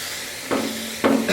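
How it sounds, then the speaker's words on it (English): Two short bursts of steam hissing and sizzling on a hot Blackstone griddle, about half a second apart, over a steady low background hiss. "We got some steam, y'all."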